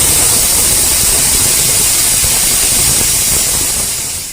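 A pressure cooker holding rice hisses steam in a loud, continuous rush that stays steady, then eases slightly near the end, with no talking.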